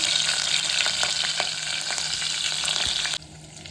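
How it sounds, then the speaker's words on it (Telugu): Cumin, mustard seeds and green chilies crackle and sizzle loudly in hot oil for a curry, a dense steady frying hiss with small pops that drops off abruptly near the end. "ఆయిల్ హీట్ ఎక్కింది ఫ్రెండ్స్. ఇప్పుడు మనము జీలకర్ర ఆవాలు వేసాను. లైట్గా పచ్చిమిరపకాయలు"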